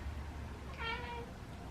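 A single short meow from a house cat, fairly quiet and close, set against a low steady indoor hum with no talking.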